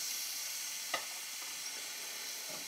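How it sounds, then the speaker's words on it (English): Garlic and onions sautéing in a pan over a flame give a steady, soft sizzle, with one brief utensil scrape partway through. "We're gonna let the garlic to be licked a little bit by the flame and soften up together with the rest of the ingredients"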